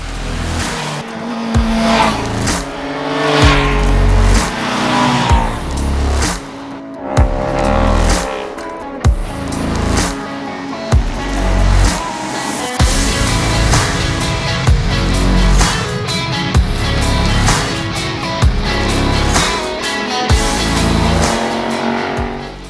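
Suzuki GSX-R750 sport motorcycle ridden hard around the Sonoma racetrack, its engine loud and near, rising and falling through shifts and corners with steady high-revving drive over the whole stretch.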